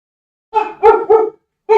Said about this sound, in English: my dog likes to bark a lot.